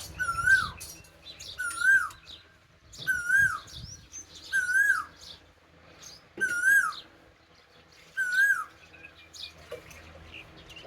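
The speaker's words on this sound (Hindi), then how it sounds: "कोयल बोलती है अभी देखें" Koel calling in a village at morning: a rising two-note whistled call repeated about six times at steady intervals, fairly near and clear, with other small birds chirping in the background.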